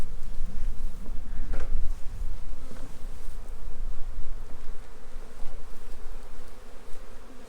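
Honeybees swarm and buzz loudly and continuously at an open backyard beehive during a spring inspection, a dense close drone with individual bees passing near.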